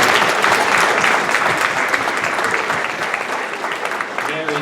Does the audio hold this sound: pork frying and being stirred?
no